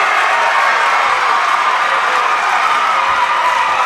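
Basketball crowd at a high school finals game roaring after a blocked shot, a dense, steady wall of cheering and shouting filling the gym at close range with no break.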